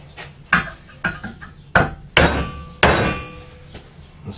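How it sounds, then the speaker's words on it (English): Hammer blows drive a chisel into a piece of scrap metal during a DIY wheelbarrow build: five sharp, ringing knocks spaced irregularly, each fading quickly, close by with no talking. "Or you can always just help it out with the old hammer and chisel."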